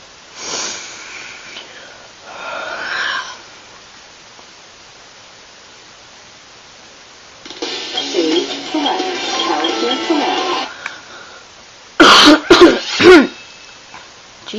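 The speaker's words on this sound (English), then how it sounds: "Jeez, that was a weird cough." A single sharp, odd cough from a player during a Sonic Adventure chao-training session, a short loud burst standing out after quieter game sounds.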